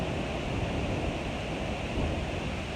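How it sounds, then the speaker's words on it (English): A strong westerly wind blows at the sea, a loud, constant roaring rush with no pauses that fills the whole short stretch. "we've got a really strong westerly wind"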